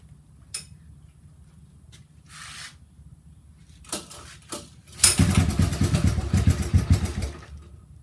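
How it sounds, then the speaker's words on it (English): A Honda 200S three-wheeler engine cold starts with a few clicks and brief pull attempts, then catches and runs loud and rough for several seconds nearby. "Cold start the Honda 200S three-wheeler. See how it cranks up."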